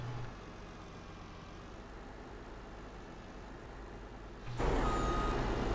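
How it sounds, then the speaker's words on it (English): A truck reversing in Farming Simulator 19 on the Riverview map, a steady engine drone with faint rhythmic beeping and a louder surge of engine and air noise near the end, with no talking. "It's actually a nice truck."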